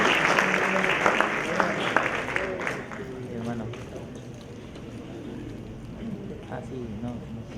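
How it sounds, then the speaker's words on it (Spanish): Applause from an audience at a natural gas industry congress panel, a burst of clapping that is loudest at the start and fades within a few seconds as a voice speaks over it. "Aplausos, por favor."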